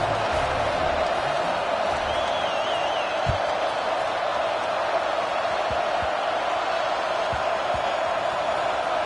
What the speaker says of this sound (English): boy, did that last drive quiet this crowd